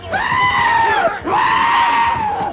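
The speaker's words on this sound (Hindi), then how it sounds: "हम उसे भेंट में बकरियां" Goats offered as a ritual gift bleat loudly and close, two long wavering cries back to back filling the whole moment, with no talk over them.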